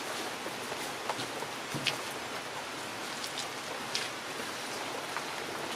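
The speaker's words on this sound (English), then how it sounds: "just in case it's soaking wet like it is now, chucking it down the rain." Heavy rain pouring down steadily during a wilderness canoe trip, a dense even hiss with a few sharper drips standing out, no voices.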